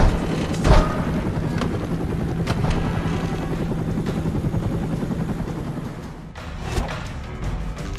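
Helicopter in the video game Stranglehold, a steady rotor thrum running the whole time, with a few sharp impact bangs near the start and again toward the end.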